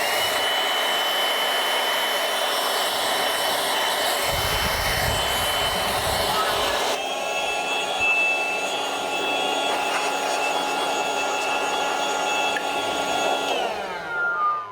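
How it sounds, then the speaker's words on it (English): The air pump of a Parkside PKA-20 Li B2 cordless compressor runs with a loud, steady whine and airy hiss, shifts pitch partway through and winds down at the end, close and alone. "We are ready to try it out. Let's see first the air pump."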